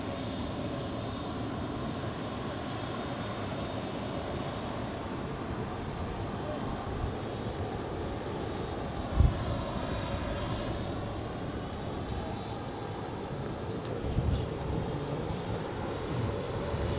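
An airliner takes off from runway 16 at Zurich Airport, a steady distant jet engine roar that holds evenly, lightly under radio talk with a couple of faint knocks.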